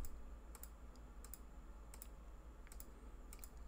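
Keys tapped on a computer keyboard while writing code in an editor, scattered crisp clicks in short bursts over a steady low hum, close and fairly quiet.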